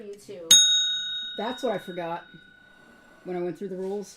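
A single bright bell ding rung to signal a claim at a live barter show, sharp and clear with a long ringing tail, followed and surrounded by someone talking.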